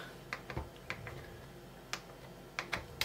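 Soft keystrokes on a computer keyboard as a word is entered, a handful of faint, close, irregular clicks spread across a few seconds with no voices.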